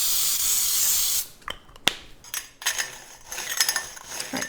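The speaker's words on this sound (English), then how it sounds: "I like to use a nonstick baking spray." A continuous hiss of nonstick baking spray into a pan for about a second, then light metallic clinks and clatter, followed by a few more short bursts of spraying.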